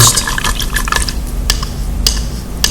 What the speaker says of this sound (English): Because I've got black on my brush, I am going to wash that first